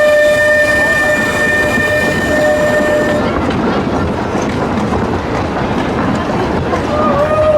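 The Pleasure Beach Express, an amusement park train ride at Blackpool Pleasure Beach, rumbles loudly along its track with clattering wheels, and a sustained horn-like tone fades out partway through, while riders talk over it.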